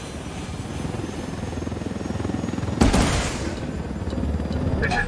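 A helicopter in the shooter game Ghost Recon Wildlands thumps with rapid, loud rotor chop and engine whine, interrupted near the middle by a sharp burst of noise before the steady beating resumes.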